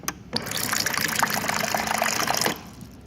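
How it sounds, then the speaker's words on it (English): Water pours briefly and steadily into a container of gallium for about two seconds, a splashy gushing sound close by, then stops. "I'm just gonna throw some water in here."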